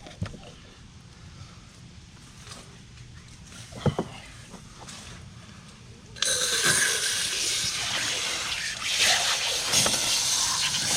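A garden hose rinses a freshly butchered rabbit in a backyard; after a few seconds of quiet handling knocks, a loud, steady hiss of spraying water bursts in and runs continuously to the end.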